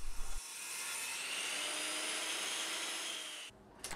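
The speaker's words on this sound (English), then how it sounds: "I used the miter saw to cut the pieces square." A miter saw slicing through a thick scaffold board, a sustained bright whining cut lasting about three seconds at steady level, with the motor spinning up at the start and winding down at the end.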